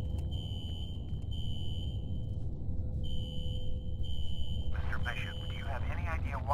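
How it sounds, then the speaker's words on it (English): Fire alarm in the video game F.E.A.R., triggered in a security office: a repeating high electronic tone in two long bursts with a gap, over a low steady hum, with a voice speaking near the end. "A fire alarm. It was triggered at a security office on that floor."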